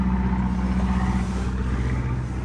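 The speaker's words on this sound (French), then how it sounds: "Pêcheur passe." A fishing boat passes in the Gulf of Patras, its steady mid-pitched engine drone and low hum holding close and even throughout, with no voices.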